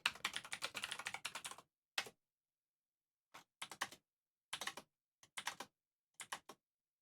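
Keystrokes on a computer keyboard, a dense run of rapid typing for about a second and a half, then short separated bursts of taps with silent gaps between them, close and fairly quiet.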